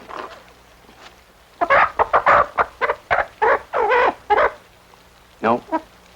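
A chicken in a kitchen clucks in a run of short, loud, close bursts after a quiet start, with a couple more squawks near the end.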